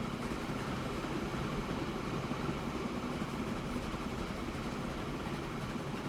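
Steady dense rumble of a train running in Transport Fever 2, a continuous rolling drone with no talk over it throughout.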